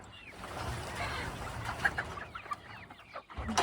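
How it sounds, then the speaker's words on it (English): Chickens in a pen give scattered, fairly faint clucks and short complaining squawks over a soft background rustle. "chickens complaining"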